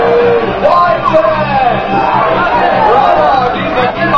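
A crowd of riders on the EAC ride yells and shouts together, a loud dense wash of many voices with continuous chatter underneath.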